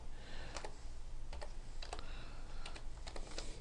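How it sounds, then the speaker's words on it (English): Keystrokes on a computer keyboard while entering text in design software, a steady run of quick, close clicks over a faint room hum, with no voices. "and I'm going to type"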